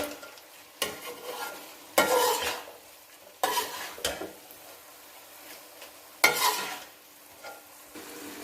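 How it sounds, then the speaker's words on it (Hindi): Pieces with green chilies stirred and frying in a pan, a steady sizzle broken by several loud scraping stirs at intervals, close and with no voice. "तो इसको अब हम हिला देंगे अच्छी तरह से।"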